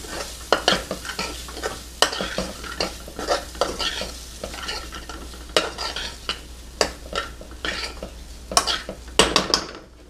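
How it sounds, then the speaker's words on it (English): Lamb stirred into a thickened paste in a pot for an Algerian bean stew, with repeated sharp spoon scrapes and clinks against the pot over a soft simmering sizzle, close and clear. "Give it a good stir."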